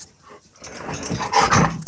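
A dog growls and barks indoors, starting quiet, then building into a loud, rough, sustained outburst close by.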